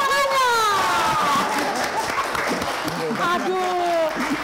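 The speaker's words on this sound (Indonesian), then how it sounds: "Saya mau minta audiensnya di sini tepuk tangan dong, rame-rame ya, untuk Pandang." Audience applause at a live talk show event, broad clapping and crowd noise running throughout, largely masked by a presenter's voice speaking over it.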